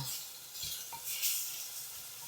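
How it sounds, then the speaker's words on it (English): Browned pork with chopped onion and garlic sautéing in a pan for kimchi ramen, a steady close sizzle with a brief scrape of stirring partway through. "We're gonna drop a little bit of onion and garlic in here. We're gonna saute this for a minute."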